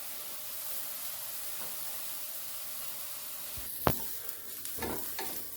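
Browned, softened onions sit in a pan with a faint steady sizzle and hiss, then a few sharper clatters and scrapes of a utensil near the end.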